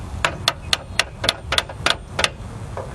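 A hammer gives light taps on a Harbor Freight ball joint press, about ten sharp metallic clicks at a steady, slightly uneven rhythm, close and distinct, the last one softer.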